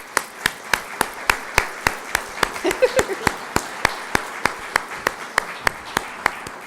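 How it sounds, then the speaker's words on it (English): Steady, evenly spaced claps ring out at an awards ceremony as the first award winner comes forward, sharp and regular, with a brief murmur of voices partway through. "let's clap for him as he comes forward"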